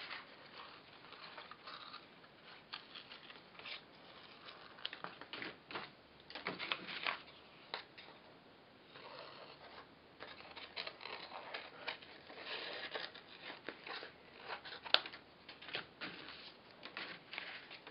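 Scissors cutting out a paper shoe pattern for a custom shoe last, a faint, steady run of small snipping and paper-rustling sounds close by, continuing with no talk.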